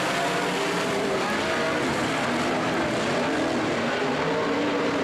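A pack of 360 sprint cars racing on an oval dirt track in a heat race, a dense, loud, continuous engine roar filling the air without letup, no voices over it.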